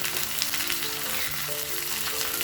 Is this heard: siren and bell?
no